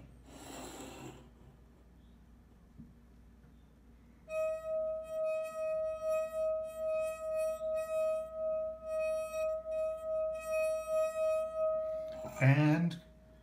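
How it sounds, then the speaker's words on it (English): A brief spoken remark comes first, then a wet finger rubbed around the rim of a glass holding water draws out a steady singing tone, pulsing with each circle for about eight seconds before a short voice returns. "the pad of that finger along the rim of the glass. And it gives off a sound"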